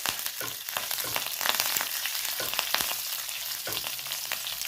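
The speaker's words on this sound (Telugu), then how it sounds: "ఆవాలు కొంచెం మెంతులు ఎండుమిరపకాయలు రెండండి తర్వాత కరివేపాకు ఈ పోపు వేసుకోవాలి" Mustard seeds, fenugreek, dried red chillies and curry leaves sizzle in hot oil for a tempering, with dense crackling and sharp pops over a steady frying hiss, close and continuous.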